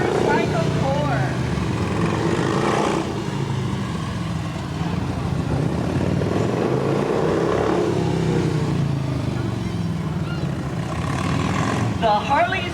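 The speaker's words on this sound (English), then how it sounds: "It is the Shriners Motorcycle Corps." Harley-Davidson motorcycles of the Shriners Motorcycle Corps ride past at a picnic parade, a continuous engine rumble with revving swells under loud crowd noise and talk.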